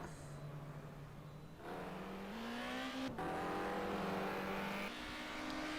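A touring car on a race circuit runs a lap, its engine droning steadily and climbing in pitch through the gears with sharp shift breaks, heard at a distance and fairly faint.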